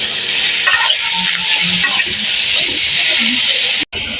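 Leafy greens (shak bhaji) stir-fry in a pan with loud, close hissing and sizzling, broken by scraping spatula strokes, and a brief gap near the end.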